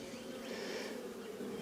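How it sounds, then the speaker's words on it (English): Honey bees in an opened hive drone in a steady, dense buzz during a frame inspection of brood, close and continuous without a break and with no voices. "I might shake the bees off this one"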